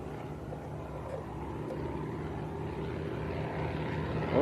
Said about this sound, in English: we might get another fly past with the smoke on here